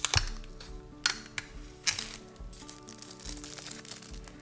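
Packing tape being pulled and pressed onto a shipping package for a soap business, with several sharp, close crackling rips at the start and then softer rustling and handling noises under a faint low hum.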